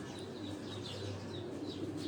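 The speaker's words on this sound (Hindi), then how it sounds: "ये सारे ब्रीडर कबूतरों के आगे जितने भी हैं लाइन में" Breeder pigeons cooing at a rooftop loft, soft repeated coos at moderate distance over a low steady background hum.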